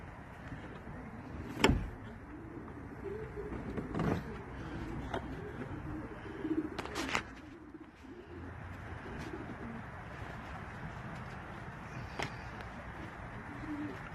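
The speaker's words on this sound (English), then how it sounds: "Then I also have a few birds" Pigeons coo softly in a backyard loft, a low steady murmur of calls with occasional brief sharper sounds and a few faint voices.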